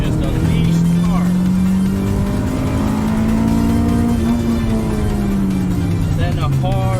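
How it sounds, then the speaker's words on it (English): A Honda Integra Type R accelerating hard on a twisting mountain road, its engine note climbing and holding high before easing off, loud and close with a faint squeal of tires. "after that you can just unleash the car"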